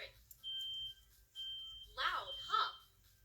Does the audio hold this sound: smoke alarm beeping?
yes